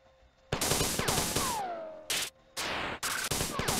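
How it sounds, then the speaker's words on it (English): Retro gunfire effects from the Marathon shooter game, several loud broadband bursts with whistling sweeps, played back to back with short gaps, no talking. "I love like the old school sound effects of the guns and everything"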